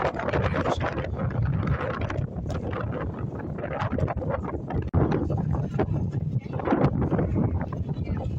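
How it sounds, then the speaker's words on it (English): Strong wind at the end of a pier in Dun Laoghaire, near the lighthouse, buffets the microphone in heavy, uneven gusts, a loud rumbling roar with sudden thumps and no clear voices. "This is how windy it is."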